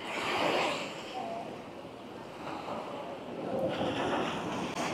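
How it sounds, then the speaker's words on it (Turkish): Ocean waves wash in at a surf beach under gusty wind buffeting the microphone, a continuous roaring wash that swells and eases. "Dalgalar ileride yükseliyor fakat çok fazla buraya gelmiyor."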